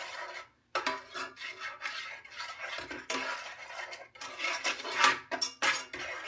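A utensil stirs spices into melting butter in a pan, with quiet scraping, rubbing and occasional clinks against the metal in short irregular bursts, no talking.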